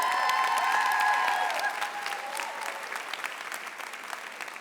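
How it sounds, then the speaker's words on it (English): Audience applause at a school induction ceremony, a loud, dense wash of clapping that starts strong and gradually thins and softens toward the end, with a few scattered cheers. "So you get a second round of applause."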